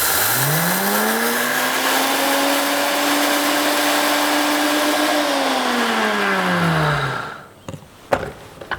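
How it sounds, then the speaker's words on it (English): Whole golden flax seeds ground in an electric grinder: a loud, steady motor whine runs for about seven seconds, then winds down and stops, leaving a few soft knocks. "We need to grind our flax for approximately 8 to 10 seconds."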